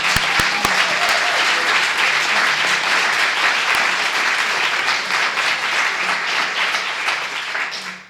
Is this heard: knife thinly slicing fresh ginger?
no